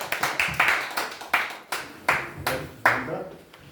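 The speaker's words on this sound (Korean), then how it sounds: "모두 박수로 환영해 주시죠" A small indoor audience claps to welcome a guest speaker at a lecture on the creation of Hunminjeongeum, with uneven bursts of hand claps close by that thin out and fade over a few seconds.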